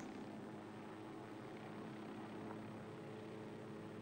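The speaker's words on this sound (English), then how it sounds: "He can shoot it from the helicopter." Helicopter in the video game Ghost Recon Wildlands, a steady low rotor and engine drone that holds at an even level throughout, with no talk over it.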